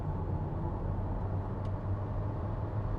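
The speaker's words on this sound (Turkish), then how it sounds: "bakın bir viraj yapalım. Yani bir SUV gibi değil, bir otomobil gibi dönüyor." A 2021 Audi Q3 35 TFSI SUV driving through a corner, heard from inside as a steady low engine and road rumble with tyre noise, even and continuous with no talking.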